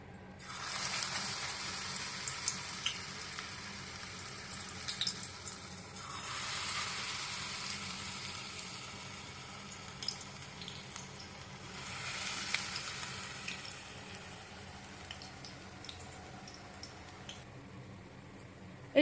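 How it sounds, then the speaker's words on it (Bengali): A spinach chop frying in white oil in a kadai on a gas stove, a steady close sizzle that swells in waves with faint scraping, no talking. "দিয়ে এইভাবে চপটা পুরো ভেজে নেবেন।"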